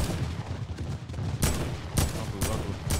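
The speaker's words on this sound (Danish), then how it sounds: "jeg bliver bombarderet med fyrværkeri" Firework blasts explode in Fortnite, four sharp broadband bursts spaced about half a second apart over a low rumbling game background, fairly loud and close.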